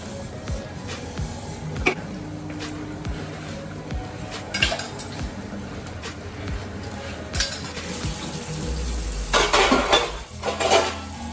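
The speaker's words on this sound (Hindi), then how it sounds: "मेरे लिए पूरे बर्तन पड़े हुए हैं, तो मैं फटाफट सारे बर्तन क्लीन करूँगी" Dirty dishes, pots and pans are washed at home, with frequent close clinks and clatters of metal and crockery over running, splashing water and one heavier scraping clatter near the end, with no speech.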